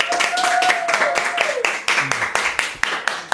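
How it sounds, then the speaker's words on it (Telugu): A small group claps at a home birthday celebration, loud sharp rhythmic claps in a steady beat with a voice talking over the start. "చప్పట్లు."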